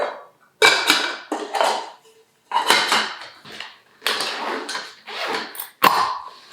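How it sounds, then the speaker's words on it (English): A nesting camping pot set being handled, with metallic clanks, scrapes and rattles in several distinct bursts separated by short silences, close and fairly loud. "look, I can cook a full course meal with this little Russian doll pot set"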